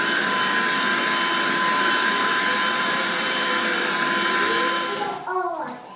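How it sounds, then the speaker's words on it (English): Black and Decker handheld vacuum cleaner sucking crumbs off a kitchen table, a loud steady whine held for about five seconds before it cuts off and winds down, with a voice faintly underneath. "Mom's gonna come in to the rescue and vacuum it up."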